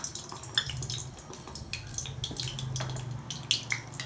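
A finger is rinsed in water while making vada batter, giving a scatter of small splashes and drips, close and fairly soft, with no voices.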